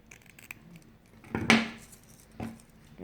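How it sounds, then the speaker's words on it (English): Scissors snip darts out of a paper sewing pattern at close range, a few crisp cuts and rustles of paper, with one sharp louder snip in the middle. "You cut your darts away."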